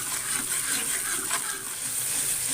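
Ground tomato puree frying in a pan, a steady close sizzle with a continuous bright hiss and faint crackle throughout, no voices.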